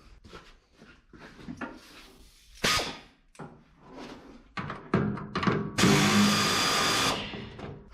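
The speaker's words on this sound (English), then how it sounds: "every time I hit the air ratchet, the hood falls back down" An air ratchet works on a 1959 Dodge Coronet during bodywork, with short bursts of pneumatic rattling and clanks of metal, then a longer sustained whirring burst near the end.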